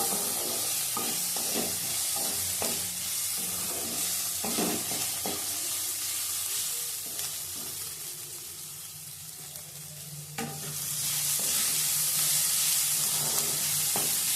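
Onions sizzle and crackle in hot oil in a pan, stirred by hand with repeated scraping knocks, while preparing aloo dum to serve with dal puri; the frying stays steady and close throughout with no talking.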